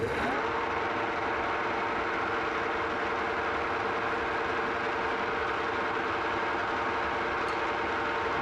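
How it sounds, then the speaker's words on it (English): An old Rockwell vertical milling machine runs steadily with a continuous mechanical hum and whine of gear noise, close and loud, without pause and with no one talking. "Now it's a noisy old mill. It's not quiet. Makes a lot of gear noise and stuff."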